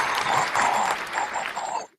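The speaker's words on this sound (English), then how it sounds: "applause. There we go." A canned applause effect fired from a button: a short, dense burst of clapping that holds for about two seconds and then cuts off abruptly.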